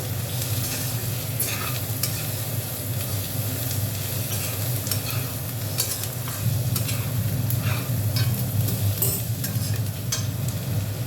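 Four whole green chillies crackle and sizzle in hot oil with turmeric, a continuous dense frying hiss broken by sharp pops and spatters throughout, growing slightly louder partway through.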